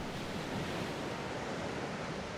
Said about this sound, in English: That's my favorite way to sleep if I need sound is ocean waves.